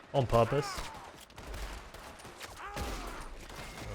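Gunfire from the video game Red Dead Redemption 2 on a foggy day, a quick cluster of sharp shots near the start followed by a couple of booming reports with echoing tails, no talk.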